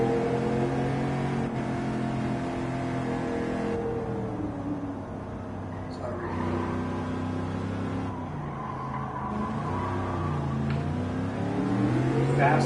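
A race car engine in Gran Turismo 7 revs and surges around Daytona, the pitch rising and dropping through repeated gear changes in a steady, continuous drone.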